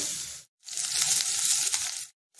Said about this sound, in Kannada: ಸ್ವಲ್ಪ ಉಪ್ಪು ಹಾಕ್ಕೊಂಡು ಹುರಿದು ತೆಗೆದಿಟ್ಕೊಳ್ತೀನಿ